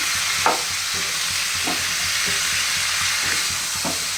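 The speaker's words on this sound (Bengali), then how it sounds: "ভালো করে কষিয়ে নিই" Malabar spinach and shrimp stir-fried in a pan: a loud, continuous close sizzle with spatula scrapes and stirring strokes roughly every half second to second, and no talk.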